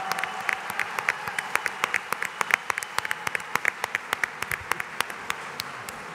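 An audience at a talk gives a long round of applause for Germán Quintero, a former student of the Tecnológico, with dense, steady clapping from many hands that runs the whole time, loud and close, and no voices over it.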